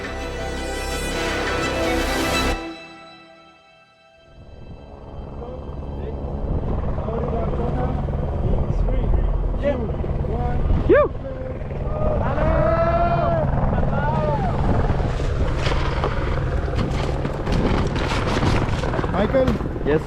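A helicopter arrives at a snowboarding site with a loud, steady rotor roar and engine whine throughout. A brief dip follows an earlier windy rush, and people talk over the noise.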